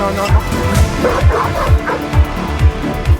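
A young Malinois, under a year old, barks aggressively in a steady run of about eight loud, close, rhythmic barks, with a whiny edge and a voice heard faintly underneath.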